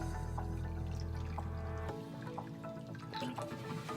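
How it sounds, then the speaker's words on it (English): Water being poured into a saucer, a steady trickling fill that stops at about two seconds, followed by faint drips and quiet handling sounds. "Fill up a saucer of water."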